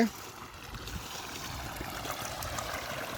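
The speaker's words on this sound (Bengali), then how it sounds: "জলটা এখানে পড়ছে এদিক দিয়ে পেরিয়ে যাচ্ছে" Steady rushing and trickling of water falling and flowing through a village fish-trap channel, a constant soft wash with faint gurgles, moderately quiet and unbroken throughout.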